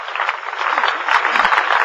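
A crowd of participants cheers and applauds at the opening of the JCWP 2001 event, with steady dense clapping and a rising roar, heard thin and a little far.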